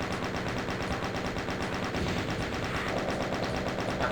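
Chaingun firing in the video game DOOM, a loud, continuous rapid burst of automatic gunfire that holds steady from start to finish with no pauses.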